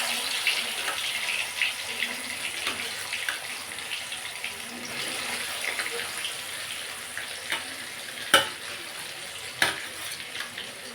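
Tangra fish frying in hot oil, a second batch, giving a steady broadband sizzle and crackle throughout with a couple of sharp pops standing out near the end.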